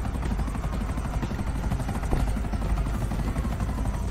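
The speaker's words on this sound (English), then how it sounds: "we got a failing engine on this helicopter" A helicopter with a failing engine in GTA 5 Online drones steadily, its rotor chop and engine whine continuous and loud, with no voices over it.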